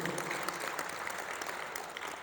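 A church congregation claps steadily at a worship service, a dense, even wash of applause filling the whole short stretch with no break.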